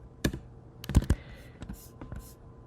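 Quiet computer keyboard typing with a few scattered keystroke taps and short bursts of clicks, close and sparse, while a git clone command is entered.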